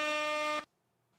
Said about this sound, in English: That definitely deserves air horn.